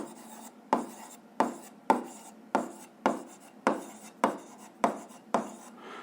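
Chalk or pen writing out the law of conservation of energy during a physics lesson, heard as about nine evenly spaced, sharp scratchy strokes, each one starting abruptly and fading, close and fairly quiet with no voices.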